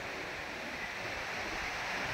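Sea waves roll in at a beach resort in San Juan, La Union, a steady, even wash of surf noise with no voices.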